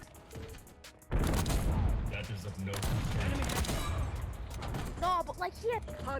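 Rapid gunfire from a hand cannon in a Call of Duty match, a loud sustained burst of shots following a quiet start, with game effects and brief voices under it.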